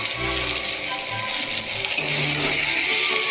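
Chopped onions hit a hot pan of rohu fish-head curry and sizzle loudly and steadily, with faint stirring scrapes running under the frying hiss.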